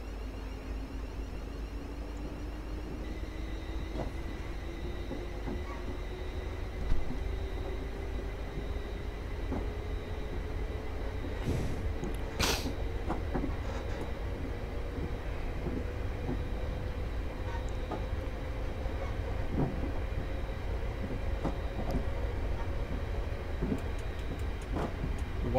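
Simulated train running on a Glasgow Airport Link route in Train Simulator, a steady low rumble with a slowly rising motor whine and occasional clicks, alone throughout.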